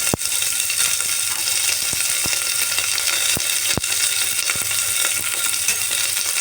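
Chopped onion, garlic, ginger and green chilli fry in a pan with a steady, close hiss of sizzling oil, punctuated by a few sharp clicks and taps of a utensil.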